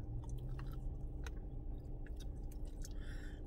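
Up close, someone chews sour, chewy candies that stick to the teeth, giving a continuous wet, squishy mastication with soft smacks.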